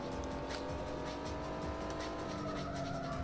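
A race car circles a long circuit in the video game Need for Speed III: Hot Pursuit, with a steady high engine drone and faint tire noise throughout.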